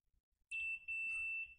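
A multimeter gives two short, shrill continuity beeps in quick succession while testing a Lenco L-725 turntable for shorts, clear and alone against a quiet background.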